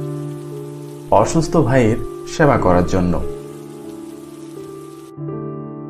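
Steady rain sound effect from an audio ghost story set in a rural Bengali village, a continuous soft patter running beneath a narrator's voice and lingering alone between lines.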